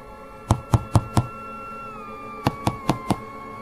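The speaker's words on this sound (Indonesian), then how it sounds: "Terdengar suara ketukan pintu di rumah kami malam itu." Someone knocks on a house door at night: four sharp close knocks, a pause, then four more at the same even pace, over a faint steady hum.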